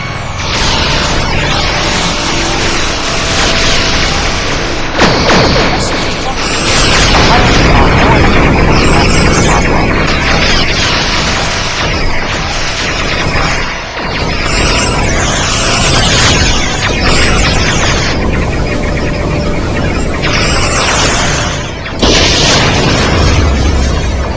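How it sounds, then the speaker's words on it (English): Star Trek fan episode battle with starship weapons firing and repeated heavy explosions and booms, dense and loud, mixed under dialogue and music throughout. "All weapons fire at will."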